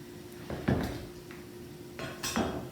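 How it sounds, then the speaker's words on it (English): A kitchen knife cuts butternut squash into small cubes on a board for soup, giving a few separate dull knocks and scrapes with quiet gaps between them, close by and with no talking. "I'm just going to cut the butternut squash up into little"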